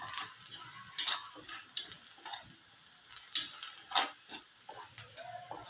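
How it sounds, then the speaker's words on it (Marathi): Spoon stirring and scraping turmeric and spices in a hot pan over lowered gas for kurdai bhaji, with a soft sizzle and scattered, irregular scrapes; nobody speaks. "मसाले ॲड करायचे आपल्याला, त्यामध्ये हळद घालूया,"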